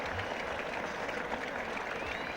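A big cricket crowd at a 1977 England versus Australia Test applauds a spectacular slip catch, with steady, dense clapping from a distance that fills the whole moment.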